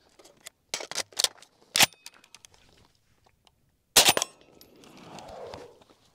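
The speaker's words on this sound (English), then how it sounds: "Magazine reload." Magazine reload on a short-barreled FN SCAR 16 rifle: a few sharp metallic clicks and clacks in separate bursts, a loud snap near the middle, then softer handling rustle, close and clear with no talking.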